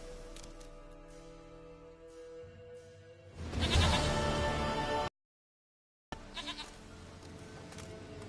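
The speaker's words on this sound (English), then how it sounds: "Goat of mine, dearest, sweetest goat." A goat bleats in The Witcher 3 video game, one long, loud, wavering bleat over a steady game soundscape, broken by a brief full silence before the background resumes.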